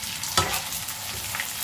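Pork rinds frying and puffing in hot oil, a steady close sizzle and crackle with a sharper pop of stirring near the start, no voices.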